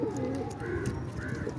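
Domestic pigeons kept by a home breeder coo softly, low throaty calls rising over a quiet background for a brief moment.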